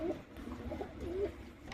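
Soft, low pigeon cooing from domestic pigeons repeats in gentle warbling phrases over a faint rustling background.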